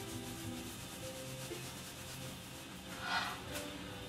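Chalk or marker writing is rubbed off a board during a music theory lesson, giving a steady soft scrubbing rasp that swells briefly near the end, with no talking.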